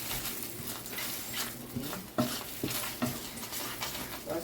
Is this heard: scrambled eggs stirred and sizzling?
yes